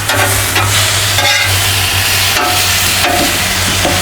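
Chicken cooking on a Blackstone flat top griddle, a loud steady sizzle with two metal spatulas chopping and scraping in repeated sharp strokes, close up.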